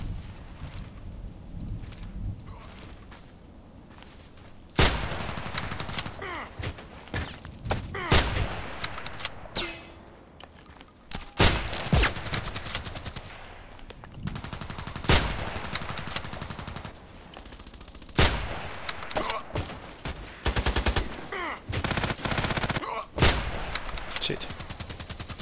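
Sniper rifle fire in a video game, heard as a series of sharp, loud shots with bursts of rapid gunfire and echoing reports spread across the stretch, over a busy game soundscape.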